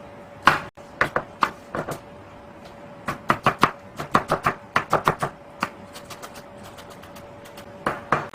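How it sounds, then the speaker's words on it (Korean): A knife mincing pickled yellow radish on a cutting board, crisp chopping taps in quick bursts and short runs with brief pauses between, close and clear with no talking. "이렇게 단무지도 곱게 다지기 위해서는 이렇게 한번 십자로 얘를 먼저 잘라주세요."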